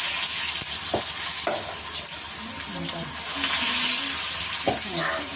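Curry leaves fry in hot oil for chicken 65, giving a steady, close sizzle and hiss. A few soft clinks and stirring knocks sit on top, and brief voiced sounds come through faintly.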